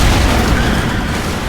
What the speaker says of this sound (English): A head-on collision at this speed.